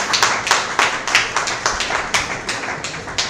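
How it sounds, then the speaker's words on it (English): Audience at a public image seminar claps in a brisk, uneven burst of individual hand claps, fairly close and loud, with no voices over it. "please another round of applause"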